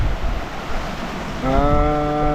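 Choppy sea waves slap and wash against a sailboat heeling in an 18 to 20 knot wind on the passage from Porto Pollo toward Ajaccio, Corsica. A steady broad rush of water and wind, with a tonal hum rising in the second half.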